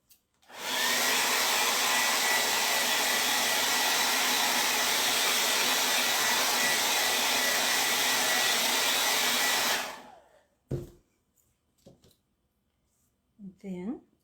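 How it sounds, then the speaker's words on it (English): A blow dryer roars steadily and loudly for about nine seconds, then cuts off, leaving a few faint handling sounds and a brief murmur. "I'm going to take the blow dryer to this really quick to make sure it's fully dry."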